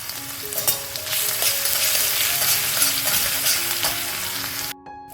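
Whole cumin seeds sizzle in hot oil as a tempering for a vegetarian chayote squash curry. The frying is loud, steady and close, with no talk, and it cuts off abruptly near the end.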